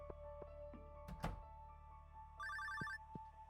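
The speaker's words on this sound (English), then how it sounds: "Oh, the phone's going." In Stardew Valley Expanded a telephone gives one short electronic ringing trill after a soft thunk, set against quiet game ambience and faint background tones.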